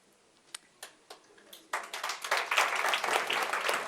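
Applause for an ambassador at a book launch starts with a few isolated claps, then swells into full, dense clapping from a sizeable audience that keeps building to the end.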